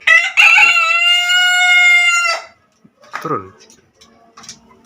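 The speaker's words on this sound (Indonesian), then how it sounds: "dia berisik kongkorongoknya itu cempreng" A loud, shrill rooster crow rings out for about two seconds, followed by a few brief sounds of someone talking nearby.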